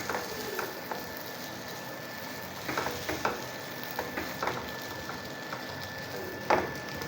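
Potato-stuffed green chilies fry lightly in a pan over medium-low flame, giving a soft, even sizzle with occasional light scrapes and taps from a utensil, close and fairly quiet, with no voices.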